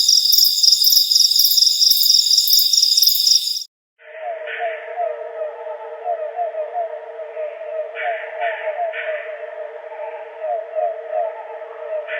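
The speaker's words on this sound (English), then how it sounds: "Here's another example of crickets which, when played slow down," Ultrasonic cricket recordings slowed down on playback: first a dense high pulsing chirp, then after a short gap several overlapping lower trills interlocking in layered rhythms, steady and clear with no voices.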